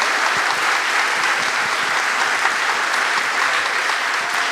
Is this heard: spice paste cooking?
no